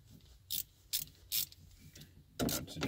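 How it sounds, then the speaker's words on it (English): A small ratchet with a 10mm socket loosens a car battery terminal on a Holden VE Commodore wagon, producing several close, crisp clicking bursts in a short rhythmic series, ending in a quicker run of clicks. "taking a 10mm socket and a little ratchet here"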